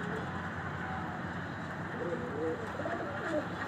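Soft cooing of a pigeon kept on a rooftop perch rises faintly out of a steady background hum, a few low warbling calls near the end.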